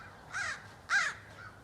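Two loud crow caws sound outdoors with a pause between them, and a fainter third call trails off at the end.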